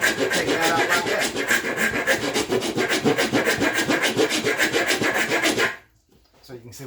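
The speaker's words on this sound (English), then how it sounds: "I'm just going right here inside this hole and run this rasp on there." A hand rasp files wood inside a hole, rubbing in a steady back-and-forth rhythm, loud and close, then stops abruptly, leaving near-silence for the last second.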